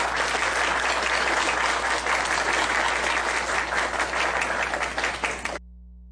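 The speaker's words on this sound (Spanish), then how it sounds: "a quien le pido un fuerte aplauso" Audience at an international ufology congress in Huánuco, Peru, giving a strong, even round of applause that holds steady, then stops abruptly, leaving a low hum.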